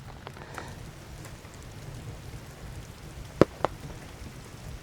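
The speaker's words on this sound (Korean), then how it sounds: "오늘 우연치 않게 갑자기 비가 와가지고 우중 캠핑을 하게 됐는데" Rain falls steadily on a camping shelter on a cold night, a dense, even patter close by, broken by two sharp drip knocks near the end, with no talking.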